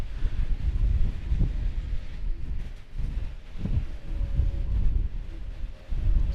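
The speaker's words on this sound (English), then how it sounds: "This parking deck makes the eeriest sounds when it's windy like this," Stormy wind buffets a parking deck with cables at an airport, heard as loud, gusty low rumbling that swells and fades in irregular surges and masks any eerie tones.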